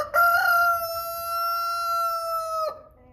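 A single American Bresse cockerel gives one long, loud crow close by, a sustained clear call of about two and a half seconds that cuts off abruptly, with no talking.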